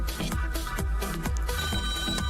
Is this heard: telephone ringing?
yes